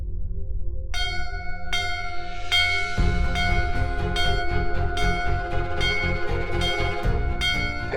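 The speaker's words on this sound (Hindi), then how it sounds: "फिर से घंटियां।" Several bells ring in layered, sustained metallic tones, struck repeatedly with overlapping long decays, loud and continuous over a low rumbling background.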